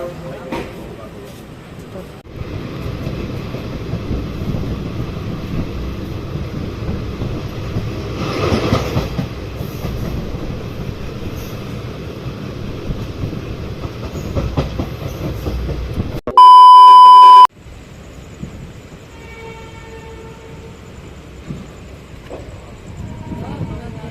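A train stands halted at Pandit Deen Dayal Upadhyaya Junction on the Budhpurnima Express route from Varanasi. A loud, steady rumble of the station and carriage runs throughout, then a brief sharp electronic tone cuts in before a quieter background.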